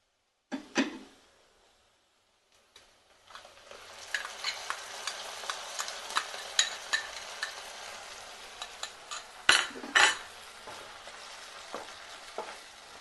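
Onions sauté with mint paste in a pan: after a brief quiet start and a couple of clatters, a soft steady sizzle builds with repeated scraping stirs and spatula knocks, close and fairly quiet, with no voices.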